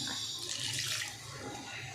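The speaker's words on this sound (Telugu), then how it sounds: "అలాగే కొంచెం వాటర్ వేసుకుంటున్నాను" Water pours steadily into rohu fish curry cooking in a pan, a close hissing splash that eases off toward the end.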